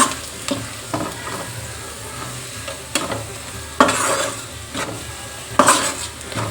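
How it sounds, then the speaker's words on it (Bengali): Mashed potato filling for aloo paratha being sautéed in a pan, a steady low sizzle broken by scraping stirs and a few louder clinks of the spatula against the pan. "ভালো করে কষিয়ে নেব এটাকে।"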